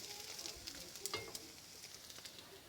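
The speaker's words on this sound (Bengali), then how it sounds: "তো আমি ভেজে নিচ্ছি আরও 2টো মাছ।" Fish sizzling as it fries in hot oil in a kadai for a Bengali bhola fish jhal, a steady crackling hiss with scattered sharp pops and spatters, close and continuous with no talk.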